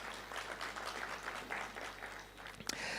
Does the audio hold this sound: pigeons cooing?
no